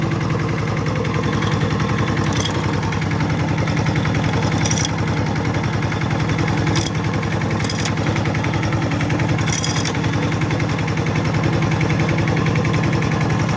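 Walk-behind tractor engine running while being driven to a rice field, a loud, steady, rapid single-cylinder chugging that carries on without a break, with a few sharp clanks rising above it.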